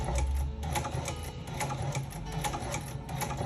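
Sewing machine sewing a box stitch on a sandal, a fast rhythmic needle chatter running steadily and close throughout, with no voices over it.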